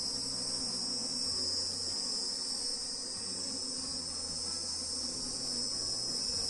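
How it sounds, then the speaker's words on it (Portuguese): A dense, continuous buzz of many honey bees swarming around a hive frame during a colony split, steady and close with no talking. "Olha só, já tem bastante abelha."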